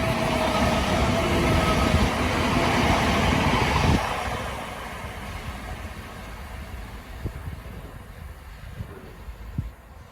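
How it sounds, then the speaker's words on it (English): A Southern Class 377 electric passenger train on a Milton Keynes Central to Clapham Junction service rushes through Bushey station, a broad steady roar that fades after a few seconds, leaving quieter rumble and a couple of faint clicks. "Passing through now is a Southern service from Milton Keynes Central to Clapham Junction"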